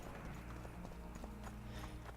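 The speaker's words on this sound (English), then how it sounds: "Is that a horse? What is that? I think it's a horse." Horse hooves clip-clopping in a steady trotting rhythm in The Witcher 2 video game, faint and low under a constant background wash.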